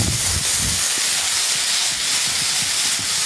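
Shallots hit a very hot pan for a lamb-with-herbs garnish, giving a steady, loud broadband hiss and sizzle that runs unbroken throughout, with no talking.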